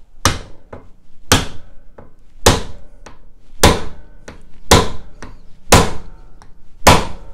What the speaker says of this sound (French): ensuite on va serrer au chasse-goupille en tapant quelques coups.